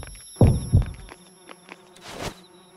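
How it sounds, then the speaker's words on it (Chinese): Bees buzz in the video game Yomawari 3 in two loud close bursts at the start, then fainter buzzing and a soft hissing swell over a quiet game backdrop. "哦，蜜蜂。"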